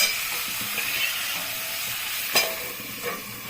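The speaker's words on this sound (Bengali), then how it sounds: "এখন আবার গ্যাস কমিয়ে দিয়ে আবার মিনিট দুই তিনেকের জন্য আমি ভেজে দেব" Chal kumro stalks and vegetables frying in a pan over lowered gas, giving a steady soft sizzle with occasional stirring scrapes, fairly quiet and continuous.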